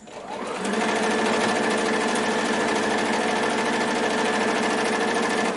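A sewing machine runs continuously at a steady, fast stitching rhythm, close and loud, as it sews seams across fabric scraps with a narrow stitch length of 1.5.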